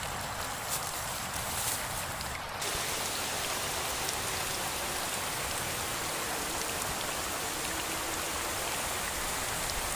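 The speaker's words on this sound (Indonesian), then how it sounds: "Aduh, hujan lagi." Steady rain falls in a forest, a dense, continuous hiss of drops hitting leaves and ground that stays loud and even throughout.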